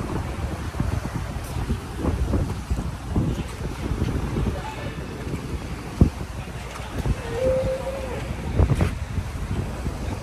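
Seashore with wind buffeting the microphone and a steady wash of waves, with occasional thumps and faint voices in the background.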